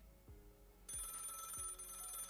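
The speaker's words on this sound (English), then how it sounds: "the phone rings again" A telephone rings, faint and distant, with a bright ringing bell tone starting partway through and continuing over a few low, repeated thumps, with no voices.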